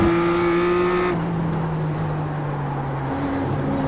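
BMW M2 race car engine howling at high revs during a race, loud and close from on board, with pitch shifts between gears and a steady hard drone.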